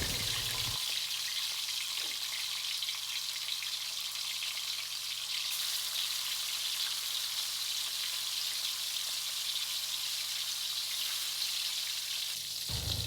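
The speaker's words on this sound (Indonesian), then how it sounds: "Ini tuh kan mengandung air banget, jadi digoreng tuh muncrat-muncrat gitu." Tofu frying in a wok of hot oil in a home kitchen, a steady, close crackling sizzle with sharp spattering pops from the watery tofu, continuing without pause and alone.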